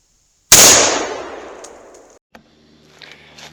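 A single loud rifle shot cracks out close by at a tree target in the woods, its blast decaying over about two seconds, followed by faint clinks and rustling.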